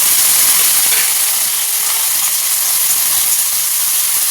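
Vegetables tipped into hot oil already holding peanuts, mustard seeds and curry leaves sizzle with a loud, steady, hissing crackle that barely changes over a few seconds.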